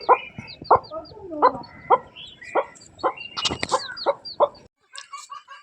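Hen clucking repeatedly at home, a steady series of loud, close clucks and short calls in an uneven rhythm, ending with a brief pause and a few quieter calls.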